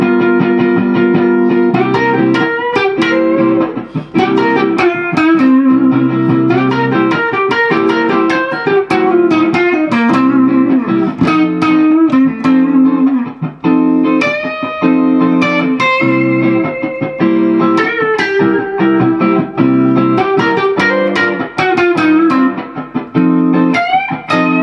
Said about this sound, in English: how to play a 12-bar blues solo that sounds like this